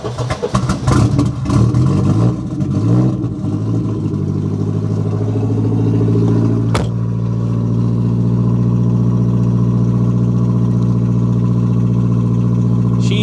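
A Mercedes 190E fitted with a swapped-in M111 engine runs loud and close, uneven and clattery at first, then settling into a steady, droning idle after a brief sharp noise partway through.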